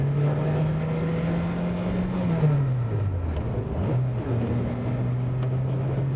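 A Renault 5 Gordini Turbo's engine holds a steady note, dips and recovers as if through a gear change, then settles back to a constant drone, heard close from inside the car.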